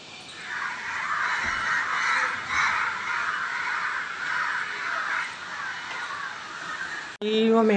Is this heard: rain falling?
no